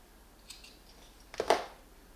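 Scissors snip through yarn after a crochet sweater round, one faint light click followed by a sharper, clearer cut in a quiet room.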